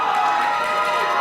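Wrestling crowd at a New South Wrestling HOSS 2019 show cheering for King Bailey Blake, a brief, dense, loud roar of many voices filling the hall.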